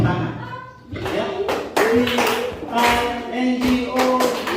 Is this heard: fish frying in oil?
no